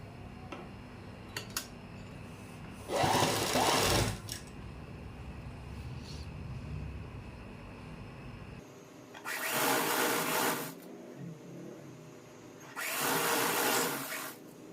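A sewing machine stitches a folded salwar waistband in three separate bursts of rapid, close mechanical whirring, with quiet handling noise between runs.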